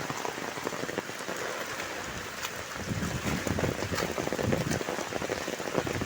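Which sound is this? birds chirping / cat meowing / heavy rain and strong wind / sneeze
heavy rain and strong wind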